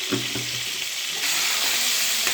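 Eggplant fries in oil with turmeric, a broad steady sizzle that swells louder partway through, preceded by a couple of soft knocks of a spoon against the pan, close up.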